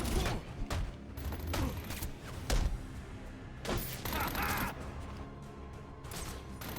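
Gunfire in the video game Batman: Arkham Origins, with repeated bursts and heavy thuds spread across a busy, loud game soundscape, while voices shout commands in the middle of it.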